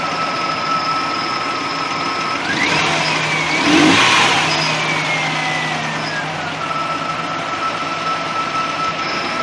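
A Nissan VG33E V6 car engine runs steadily at idle, with a brief rise in revs midway before settling back to a constant hum.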